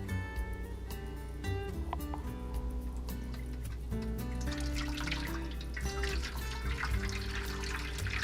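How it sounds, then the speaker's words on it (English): Hot water pours and trickles steadily into a pan for baking a cheesecake, a continuous splashing flow with faint clinks, heard up close. "I'm gonna pour this in first. This is the hot water."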